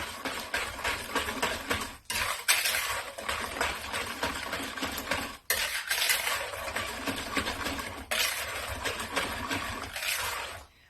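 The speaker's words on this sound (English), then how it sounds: "I'm going to mix everything really well." Orange pie filling is mixed in a bowl, producing a steady, busy mechanical whirring that runs throughout and cuts out briefly a few times.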